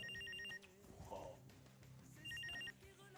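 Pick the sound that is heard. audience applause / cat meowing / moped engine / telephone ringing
telephone ringing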